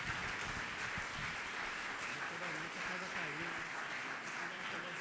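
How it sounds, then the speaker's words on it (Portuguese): A church congregation applauds during a service, a broad steady wash of many hands clapping at moderate distance, with a voice speaking over it. "Uma salva de palmas para Jesus,"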